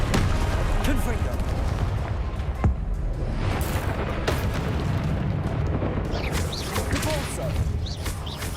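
Confringo, the explosive spell in Hogwarts Legacy, goes off in a string of loud booming blasts and crackles, dense and continuous over a rumbling game background.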